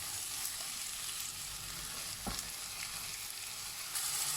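Onions fry in a pan until they turn translucent and golden, giving a continuous soft sizzle with one brief clink partway through and no voices.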